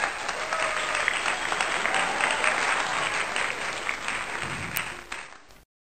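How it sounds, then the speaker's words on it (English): Audience clapping for comedian Porkupyne at a live stand-up show, a loud, continuous round of many hands that holds steady, then fades and cuts off abruptly. "Clap for him."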